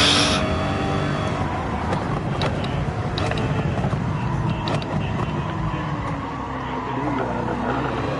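A race car engine in a racing video game drones loudly and continuously, with a dense rumbling roar and faint shifting whine throughout, heard from nearby with no clear talk.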